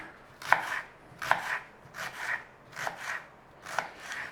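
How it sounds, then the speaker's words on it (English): A knife dicing an onion on a cutting board, with six separate chopping bursts at a steady, unhurried rhythm, each a short crisp knock with a scraping tail. The chopping is close and clear, and no one speaks. "We want some diced onion"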